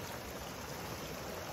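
Water flows steadily in a small stream among rocks. The hiss is soft, even and continuous, heard alone without talking.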